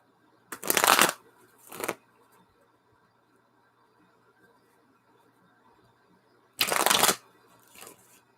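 A deck of Cosmic Tarot cards is shuffled close up in two separate bursts of riffling with a quiet pause between them, each burst a quick flutter followed by a shorter tap.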